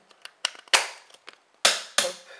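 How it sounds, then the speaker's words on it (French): Loud plastic snapping and clicking as a rigid crystal-decorated case is pressed onto an iPhone 4, a cluster of small clicks followed by two sharp cracks. "C'est une coque qui s'insère en clipsant l'iPhone."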